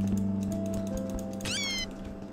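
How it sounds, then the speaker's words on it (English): High, thin chirping squeaks from Minecraft cave bats flutter briefly in a quick rising burst, heard over a steady low game hum with faint clicks. "Oh no, those are bats."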